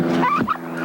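A short, warbling gobble from a turkey, loud and close, a quick rattling call lasting under a second.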